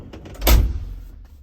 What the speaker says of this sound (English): And when you close the door